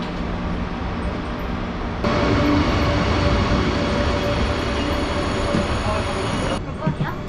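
Korean passenger train 1832 runs from Gangneung toward Donghae, heard from inside as a loud, steady rumble of wheels on rail, with a voice faintly over it.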